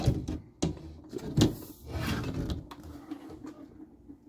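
The unlatched cabinet door and translite backglass of a Data East Star Trek pinball machine shift and bang, making several sharp nearby wooden thumps and knocks followed by softer rattling and scraping.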